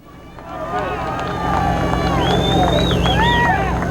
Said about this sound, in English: You'll hear the cheer.